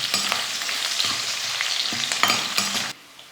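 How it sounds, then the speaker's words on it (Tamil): Lentils, garlic and dried red chillies sizzle and crackle steadily in hot oil, with periodic stirring scrapes, before the sound cuts off abruptly near the end. "இதெல்லாம் சேர்த்து எண்ணெயில் நல்லா வறுத்துக்கலாம்."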